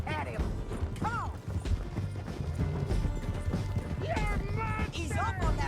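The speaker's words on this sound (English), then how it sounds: "He's up on that horse, John." Galloping horse hooves in the Red Dead Redemption 2 western video game pound steadily through a busy mix of game sounds, with a neigh and voices over the chase.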